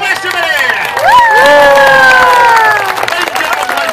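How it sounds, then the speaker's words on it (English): A dog show crowd breaks into loud cheering and clapping, with high shouts and whoops rising over continuous applause, close and lively throughout. "A big round of applause for the doggies of the Wild West of Maine!"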